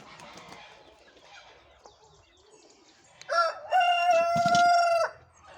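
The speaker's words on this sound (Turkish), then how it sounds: "Şöyle güzel güzel horozan sesini dinle" After a stretch of faint background chatter and birdsong, a rooster crows loudly nearby in one long, drawn-out call.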